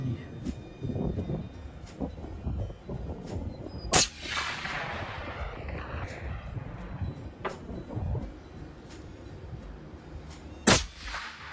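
Two sharp, loud reports from a very long rifle fired at a 1,000-yard target, a little under seven seconds apart, over steady outdoor background noise with faint voices.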